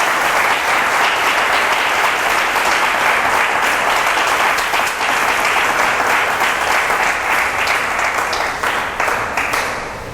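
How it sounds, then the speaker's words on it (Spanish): A church congregation in Arauca, Colombia bursts into loud, dense applause, a thick roar of clapping hands that holds steady for about ten seconds before easing slightly at the end. "Vamos a darle un aplauso a nuestro Señor"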